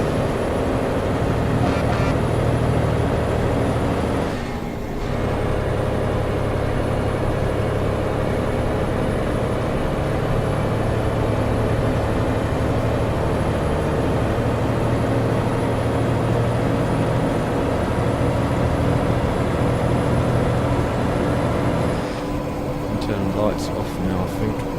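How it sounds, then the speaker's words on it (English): Engine brake on a Mack Anthem truck with Kriechbaum sounds in American Truck Simulator: a loud, steady low diesel rumble that drops out briefly twice, with some talk over it. "Let's put the Jake on so you guys and girls can hear it."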